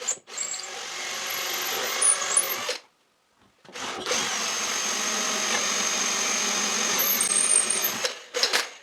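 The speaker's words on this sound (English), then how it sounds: "I have to continue these holes so they go through the plywood board" A power drill bores holes through a plywood board for a homemade router table, a close, loud, steady whine in two long runs split by a short silent pause, with a brief final burst at the end.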